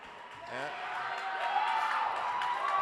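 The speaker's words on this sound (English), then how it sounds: "You hear this crowd is going crazy for Emma." A crowd cheers and whoops at a girls' high school volleyball match as a favorite player enters, building steadily from moderate to loud, with a voice talking over it at the start.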